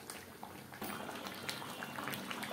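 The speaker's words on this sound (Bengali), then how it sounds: "চিকেন সেদ্ধ হওয়া পর্যন্ত অপেক্ষা করব" Chicken simmering in a little water in a kadai for kadai chicken, a soft steady bubbling and sizzle, quiet and close, with small pops throughout.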